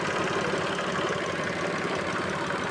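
A Mitsubishi Mirage engine idles with a steady, dense mechanical hum and a faint shaking vibration from a worn engine support, recorded close up with no talking.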